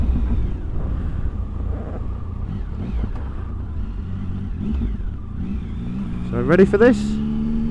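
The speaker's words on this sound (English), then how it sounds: "get this underneath the tunnel and do some second gear overrun" A Triumph Sprint ST1050 motorcycle engine rumbles steadily in second gear under a tunnel, then rises into a loud revving sweep near the end, with a person speaking briefly over the start.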